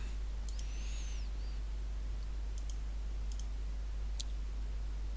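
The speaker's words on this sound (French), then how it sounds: "clic droit" Single crisp clicks from a computer mouse on a Mac, a few sharp ticks spaced apart over a steady low hum, close and quiet, with no talk.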